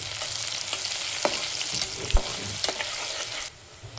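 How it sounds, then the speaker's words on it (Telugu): Onions, shahi jeera, bay leaf, cloves and cinnamon frying in a little oil for chicken pulusu. The pan gives a steady close sizzle, with a few clicks as the spoon stirs, and the sound drops off sharply near the end. "కొంచెం సాజీరా, బిర్యానీ ఆకు, 2-3 లవంగాలు, చిన్న చెక్క, ఆనియన్స్ ఇవన్నీ వేసి ఫ్రై చేయాలి"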